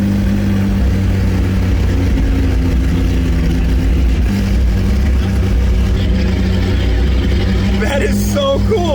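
A straight-piped McLaren P1 supercar engine, a rough, loud continuous drone with low pulsing and rising revs near the end, filling the whole stretch without speech.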